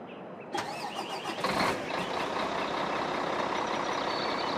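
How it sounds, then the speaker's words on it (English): A Peterbilt truck engine cranks and fires up in Farming Simulator 2013, a sharp starter burst settling into a loud, steady idle rumble with no talking. "Let's preheat our engine up."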